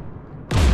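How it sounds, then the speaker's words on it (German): Anti-aircraft guns fire at a ship in Mass Effect 3, a sudden loud, bass-heavy blast of gunfire breaking in after a quiet half second, close and dense with no voices. "Die Geth haben neben dem Störturm Flugabwehrgeschütze installiert"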